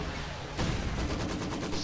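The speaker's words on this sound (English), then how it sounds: "he's firing the Raketenwerfer at this factory" Raketenwerfer firing at a factory in a video game, a muffled rumbling blast and a following series of rapid, evenly spaced rocket launches, moderately loud over a constant noisy battle bed.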